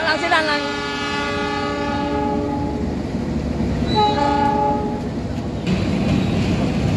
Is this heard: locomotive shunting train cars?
yes